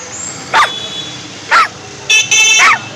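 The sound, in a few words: voice imitating a dog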